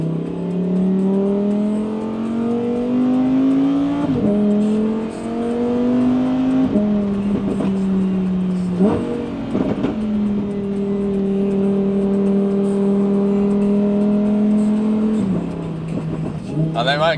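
A Lamborghini Huracan engine revving steadily, its pitch climbing and dropping again several times over about seventeen seconds, loud and sustained.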